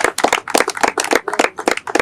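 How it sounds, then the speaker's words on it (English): At a boardwalk ceremony, clapping sounds close and crisp, with a few pairs of hands beating quick, uneven rhythms rather than a full crowd roar. "let's give him a round of applause"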